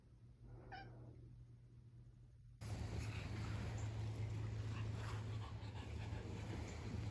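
A pet cat meows a few times near a new cat tower, the calls fairly faint and close in a quiet indoor room with a steady hum, then a louder broadband noise takes over.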